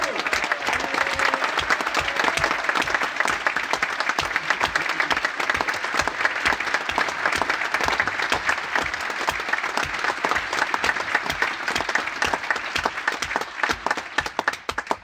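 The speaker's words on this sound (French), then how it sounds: "Je vous prie de faire un tonnerre d'applaudissements pour Florian Philippot." Thunderous applause fills a hall at a French political rally for the 2024 European election campaign, a dense, sustained roar of many clapping hands with crowd noise, loud and unbroken throughout.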